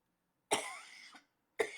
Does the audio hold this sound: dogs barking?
no